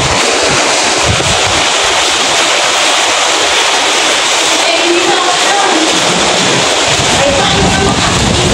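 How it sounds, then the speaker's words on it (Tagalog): Strong typhoon wind from Typhoon Kristine roars loud and unbroken around a school, a dense, buffeting rush that continues without pause throughout. "Ang lakas ang hangin."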